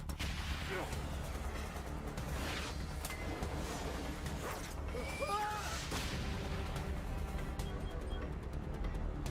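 Gunfire from a scene in the Titans TV series sounds as scattered distant shots and metallic clanks over a constant rumbling background, with a voice talking faintly underneath.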